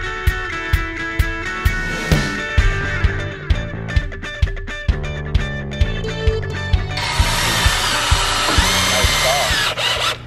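Power tools at work during woodworking in a fish retail store area: a drill whirs in short repeated bursts with rhythmic clicks, then gives way to a longer, steadier high-pitched run near the end.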